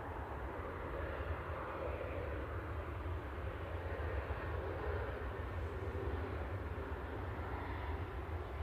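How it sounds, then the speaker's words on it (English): A Norwegian airliner arriving from Stockholm touches down at Manchester Airport, heard as a steady, distant engine roar and rumble that holds evenly throughout. "Norwegian touching down from Stockholm"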